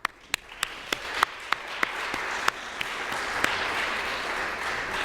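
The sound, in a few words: audience applause for election candidates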